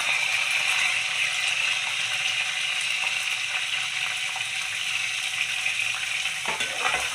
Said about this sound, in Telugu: పచ్చిమిర్చి, ఆవాలు కూడా ఫ్రైలో పెట్టుకోండి.